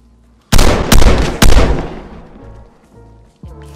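A gunshot in the survival video game Vigor: three loud, sharp reports in quick succession close by, each trailing off into a fading rumble, followed by faint clicks.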